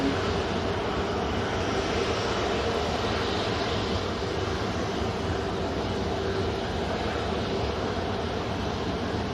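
A Ryanair Boeing 737 airliner departing produces a continuous, even roar of engine noise with a broad rushing texture, steady in loudness throughout and without voices.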